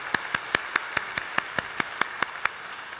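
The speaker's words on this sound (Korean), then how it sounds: "우리 하나님께 감사 영광의 박수 올려드리겠습니다" Rhythmic clapping rings out during a Korean church worship service, about a dozen crisp, evenly spaced claps in quick succession with no talk over them.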